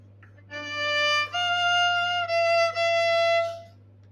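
A bowed string instrument plays a short phrase of sustained notes in third position, smooth and clear with slight pauses between bow strokes, alone in a quiet room.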